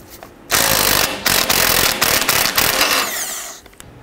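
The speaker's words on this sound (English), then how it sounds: "Loosen and remove the nut on the stabilizer shock here using a 19 millimeter" A 19 mm socket spins off the stabilizer shock nut on a 1997–2006 Jeep Wrangler, loud close bursts of rapid power-tool whirring broken by short pauses, then tapering off.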